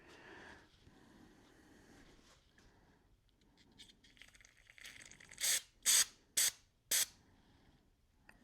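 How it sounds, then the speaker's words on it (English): Four sharp aerosol bursts of carb cleaner sprayed into a Yamaha PW50 carburetor, each short hiss spaced about half a second apart, loud and close after a quiet stretch of faint handling noise. "Bust out some carb cleaner."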